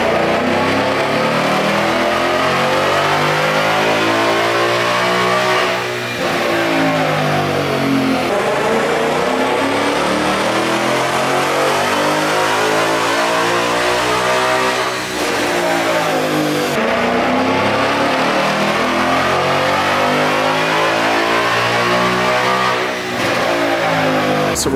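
Loud Ford Mustang S550 engine on a dyno, climbing through repeated long, sweeping rev pulls with brief dips between them, close and sustained with no voices.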